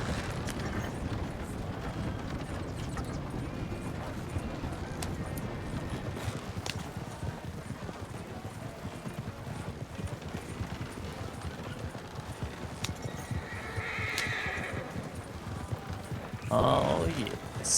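Horses in a Western roleplay video game keep up a continuous galloping clip-clop across the whole stretch, with a brief whinny-like cry near the end and a few sharp mechanical knocks over steady low rumble.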